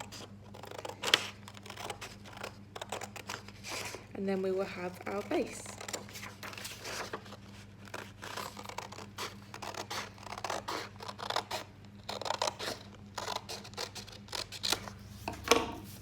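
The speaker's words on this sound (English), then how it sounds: "So I'm just going to cut it out." Scissors snip through paper to cut out a square for a DIY craft bookmark, making repeated crisp close cuts and rustling, with a voice talking briefly partway through.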